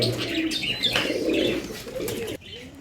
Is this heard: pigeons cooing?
yes